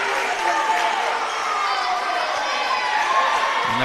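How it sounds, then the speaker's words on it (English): A gym crowd roars steadily at a girls high school volleyball match, Albert Lea against Mankato West, forming a dense, continuous wash of cheering and shouting with no clear breaks. "the crowd getting a little louder here as we keep that lead"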